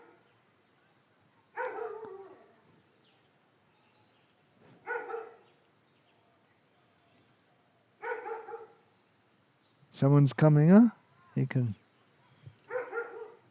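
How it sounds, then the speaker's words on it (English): A dog barks in short single bursts spaced a few seconds apart, moderately near in a quiet room, and a person speaks briefly between the later barks. "The dog can hear or smell something that we can't."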